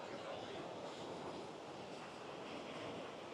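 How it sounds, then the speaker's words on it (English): Ocean waves crashing against the concrete pillars of the pier at Hermosa Beach, a loud continuous roar of surf blended with gusting wind noise. "you watch the waves crash up against the concrete pillars"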